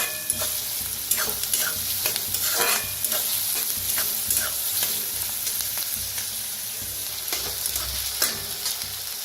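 Chopped onion fries in oil with a pinch of asafoetida in a pan for a masoor dal and onion dish, giving a steady loud sizzle with repeated scraping stirs throughout, no talking.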